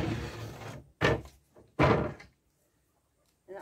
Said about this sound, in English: Take the other drawers out.